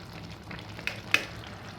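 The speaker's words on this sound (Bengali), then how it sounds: "ঘি দিয়ে দিলাম," Ghee melting and sizzling in a hot pan while cooking a green jackfruit curry with fish head; a quiet, soft frying hiss with two light spoon taps.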